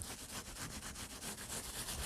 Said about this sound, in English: So we rub it a little bit more.